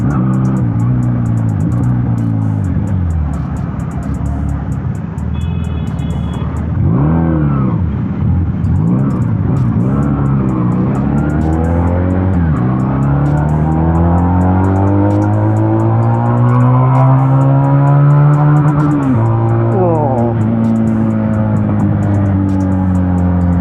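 A Benelli Patagonian Eagle 250 motorcycle engine revs hard and loud up close, its pitch climbing and dropping through several blips before a sustained high rev, with no talking over it.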